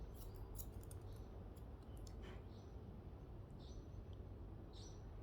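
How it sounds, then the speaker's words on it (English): Grooming scissors trim dog hair around the outsides of the coat during an off-grid grooming session, giving faint, crisp snips in quick irregular clusters over a low steady background hum. "I'm just trimming around the outsides."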